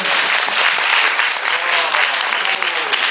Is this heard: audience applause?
yes